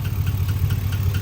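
A GM engine idling with a lifter tick, a steady low rumble carrying a quick, regular ticking pulse, close up and continuous with no talking.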